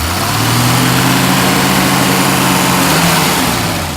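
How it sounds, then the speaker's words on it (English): The engine of a 1970 Mercedes-Benz 280 SL idles loudly and steadily up close, rumbling evenly with no revving for the whole stretch. "It's got a nice healthy idle."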